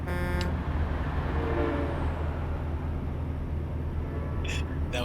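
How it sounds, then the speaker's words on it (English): A train horn blares briefly at the start in American Truck Simulator, then the steady rumble of driving and a passing train carries on, with another short horn-like tone near the end. "The train horn sounding as we drove over the train as it passed by."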